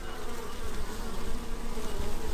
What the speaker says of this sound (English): And here are all of our bees.